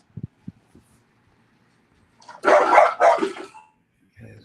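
A dog barks a few short times near the start, then a person talks briefly nearby, with one more low bark or grumble at the end.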